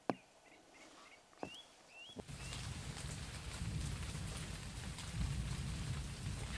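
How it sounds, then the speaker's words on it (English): Autumn rain pouring steadily after a few quiet seconds, a dense close wash of drops on surfaces that swells and stays loud, preceded by a couple of faint sharp ticks and a bird's chirps. "The autumn rains and thunderstorms are the preludes to the coming of winter."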